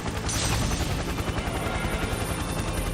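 A helicopter in the fighting game Persona 4 Arena Ultimax gives off a steady, loud rotor roar that fills the whole stretch, with a burst of sharper noise near the start.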